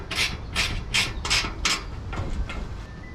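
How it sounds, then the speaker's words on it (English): A 10 millimeter wrench ratchets a carriage bolt tight on a trunk being fitted to a Jeep TJ Wrangler, giving about five crisp, close, rasping clicks in a steady rhythm followed by several fainter ones. "Now you're going to tighten and snug that up. That's where your 10 millimeter is going to come in."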